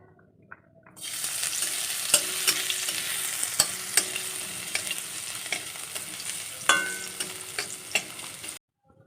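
Garlic tempering for lentil dal hisses in hot oil, a loud steady sizzle that starts abruptly, with stirring scrapes and crackling pops, then cuts off sharply.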